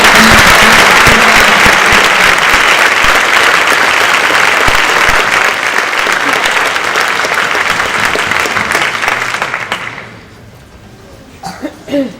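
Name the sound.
audience applause at awards ceremony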